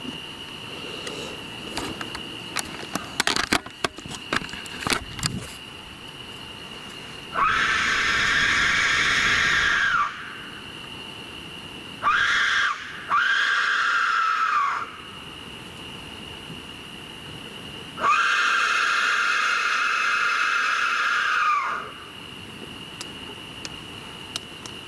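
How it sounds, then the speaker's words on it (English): Death whistle blown in a night field, three long harsh shrieking blasts with a brief double blast between them, loud and close against a quiet background with scattered clicks before. "And death whistle."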